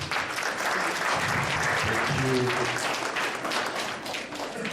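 A crowd at a school leadership ceremony applauds in a dense, sustained round that fills the whole stretch, with a brief voice speaking over the clapping.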